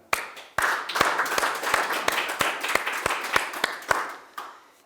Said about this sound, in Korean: 우리 다 같이 큰 박수로 경과보고를 가늠할까 합니다.